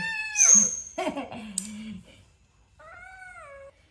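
A cat meows up close several times, drawn-out, rising and falling cries separated by short pauses.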